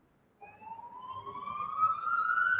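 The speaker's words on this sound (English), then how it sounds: "What is that sound? It's a siren" A siren wails steadily with a rising pitch, growing gradually louder over a low rumbling background, with no talk over it.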